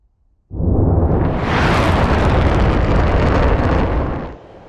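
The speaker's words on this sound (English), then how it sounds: "There's the bomb fall line, release the pressure, and there go the bombs." Bombs lofted from an F-15E in a flight simulator explode in a single loud, rumbling blast that swells abruptly and holds for several seconds before dropping to a softer tail.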